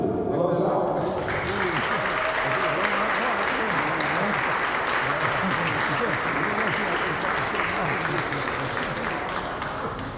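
A gym crowd at a girls' high school basketball game between Port Allegany and Galeton applauds a senior player, dense sustained clapping throughout with a voice over the loudspeaker in the opening moments.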